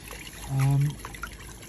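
Water trickles and splashes through a freshly cleared house gutter, a soft steady dribble with a brief louder gurgling burst in the middle, heard outdoors without talk.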